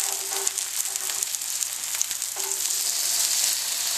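Zucchini slices frying in a pan, a loud, dense and continuous sizzle with a soft low hum underneath, heard alone with no talking.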